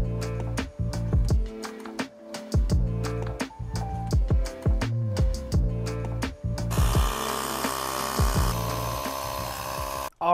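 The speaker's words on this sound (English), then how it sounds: "let's go ahead and install this carburetor now that it's got a new float needle, a new air filter, and it's all cleaned up" A cleaned-up carburetor with a new float needle and air filter is fitted to a Honda NC50 scooter. Close, irregular metallic clicks, knocks and tool taps are followed by a steady hiss-like wash of noise in the last few seconds.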